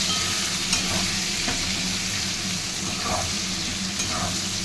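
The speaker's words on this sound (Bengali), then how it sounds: "তারপরে আমি এখানে অ্যাড করব কিউব করে কেটে রাখা পেঁয়াজগুলো।" Cubed onions fry in a hot pan for a chilli chicken recipe, giving a steady close sizzle with a few soft scraping stirs of a spatula through the whole stretch and no talking.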